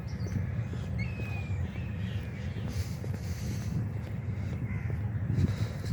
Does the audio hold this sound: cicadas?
no